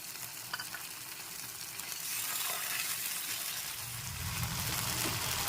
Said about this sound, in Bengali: আদা রসুনের পেস্টটাকে হালকা নেড়ে চেড়ে নিতে হবে তার আগে একটু সামান্য পরিমাণ জল মিশিয়ে দিচ্ছি